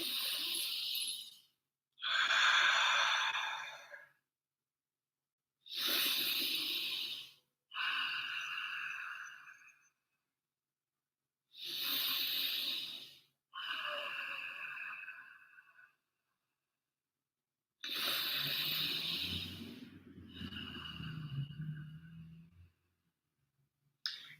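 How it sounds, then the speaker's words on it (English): Slow, deep breaths during a breathing exercise: long airy inhales and exhales in steady pairs, separated by short silences, close and clear with no talking. "I'm taking 3 deep breaths."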